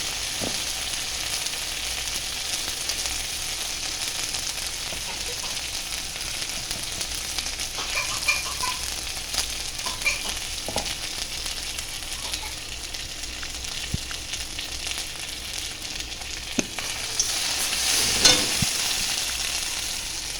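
Spice paste with turmeric frying steadily in a pan, a continuous close sizzle with occasional stirring scrapes and clinks, no voices.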